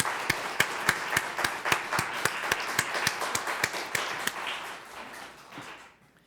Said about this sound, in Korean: 다시 한번 감사의 박수를 보내드리도록 하겠습니다